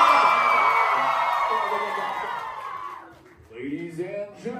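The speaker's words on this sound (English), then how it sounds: "can we give her a little more applause?" A live concert audience in Denver cheers and whoops loudly for a singer, a dense roar of voices that fades away, then rises again in scattered shouts.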